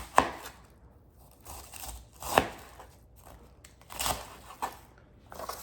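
A knife chopping cabbage on a board, a few loud separate thuds with quieter cuts in between, close and alone.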